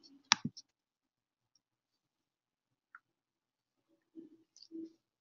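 A single sharp computer mouse click on a quiz button in a quiet room, followed by a few faint taps and soft scattered sounds.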